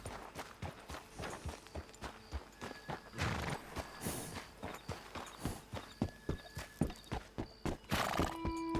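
A horse in the Western video game Red Dead Online whinnies loudly while its hooves clip-clop in a steady walking rhythm, with a second bright neigh near the end and no talk.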